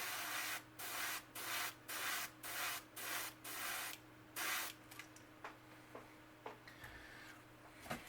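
Wicked Black paint sprays at low pressure onto a sunfish tail in a series of about seven short, even hissing bursts, then a few faint scattered ones.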